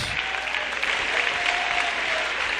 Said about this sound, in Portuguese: eu quero ouvir palmas